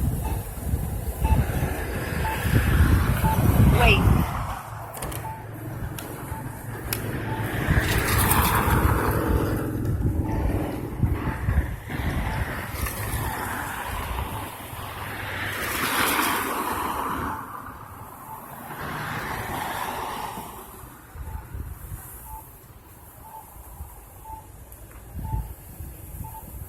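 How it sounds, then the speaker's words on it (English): Regular short chirps repeat steadily at a street crossing, heard over rumbling traffic and a passing train or vehicle noise. "that chirping sound is that's the sound of an audible pedestrian signal"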